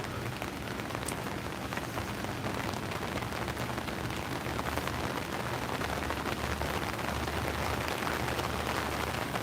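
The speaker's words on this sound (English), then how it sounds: "the raindrops start again" Steady rain pattering down on a surface at a trackside railway overlook, dense and continuous, with scattered drops tapping throughout and no voices.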